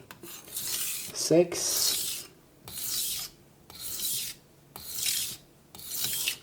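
Rhythmic rasping strokes of a knife blade sharpened on a Naniwa whetstone, fixing chips, in several evenly spaced bursts close up, with a short spoken phrase early on.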